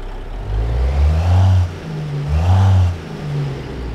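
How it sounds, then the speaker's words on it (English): A Peterbilt 389 truck engine in American Truck Simulator revs up twice in smooth, rising surges, each falling back to idle, close and loud with no talking. "It's a very smooth sounding engine."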